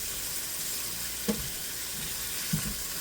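Vegetables sauteing in olive oil in a pan with herbs, a steady soft sizzle and hiss with a couple of faint utensil taps, quiet and close, no talking.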